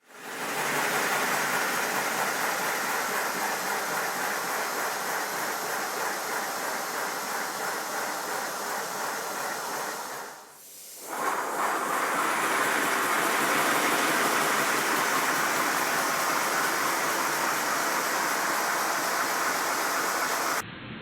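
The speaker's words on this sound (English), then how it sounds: "I'll let the video run out with the engine running." Simplex steam locomotive model engine running steadily, a loud continuous hissing rush of steam with a brief dip partway through, then resuming at full strength, with no voices.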